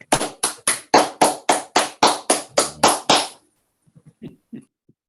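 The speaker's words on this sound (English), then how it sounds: "let's all unmute and give Relinde a round of applause" About eleven sharp, evenly spaced claps ring out in a quick steady rhythm from participants unmuted on a video call, then stop abruptly, leaving a few faint scattered taps and small noises.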